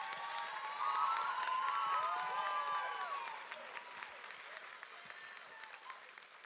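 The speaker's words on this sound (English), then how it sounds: "Round of applause for her." An audience at a band concert applauds a teacher, a dense burst of clapping with some cheering and whistles that peaks early, then thins out and tapers to scattered claps.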